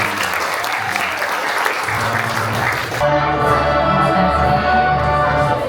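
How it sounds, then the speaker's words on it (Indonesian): Loud, continuous applause from a crowd at an awards event fills the first few seconds, then music with a sustained tonal backing takes over while the clapping carries on beneath it. "Tepuk tangan dulu buat semuanya."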